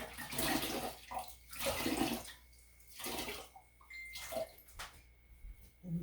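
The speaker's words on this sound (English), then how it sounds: "I have fiber soaking in the sink, so I'm going to pull that out now." Wet BFL wool fiber being lifted out of a water-filled sink before dyeing, heavy sloshing and dripping splashes in several surges with quieter trickles between, close by.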